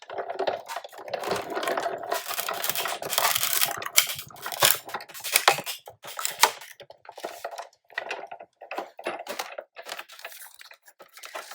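Sizzix die-cutting machine cranking cupcake box paper through, an irregular series of crunching, grinding bursts and clicks, close and fairly loud, with short pauses between pushes.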